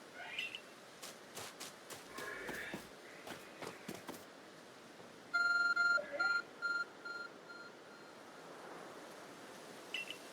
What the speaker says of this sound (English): A strange, beeping object is still lying on the ground.